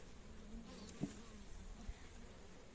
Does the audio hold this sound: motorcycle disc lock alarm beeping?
no